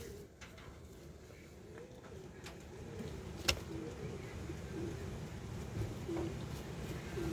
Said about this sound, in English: I'm going to show you guys the Barbie doves again